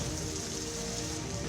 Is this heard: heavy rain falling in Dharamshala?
yes